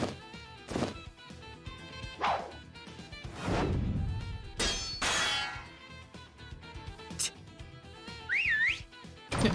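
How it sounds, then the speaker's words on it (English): A whistle and the church doors slamming open in the Piofiore: Fated Memories visual novel, heard as sharp clanging and crashing hits with a rising-falling whistle near the end, over game music. "Nicola whistled and the church doors slammed open."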